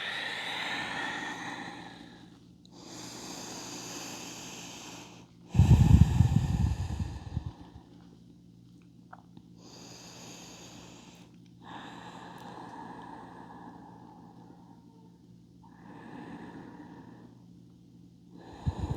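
A person doing yoga breathes slowly in a calm indoor space, with a series of audible breaths and exhales spaced a few seconds apart; one exhale around the middle is much stronger and louder than the rest.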